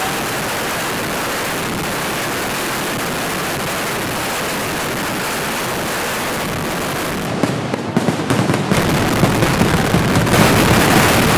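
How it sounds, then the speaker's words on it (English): Fireworks at the Thrissur Pooram Vedikettu make a loud, dense, continuous roar of bursts that never lets up, with sharper cracks standing out toward the end. "Various types of fireworks will offer a unique visual experience."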